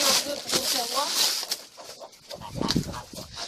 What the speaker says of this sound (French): Au-dessus, donc là c'est les poules qui viennent.